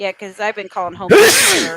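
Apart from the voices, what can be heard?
sneeze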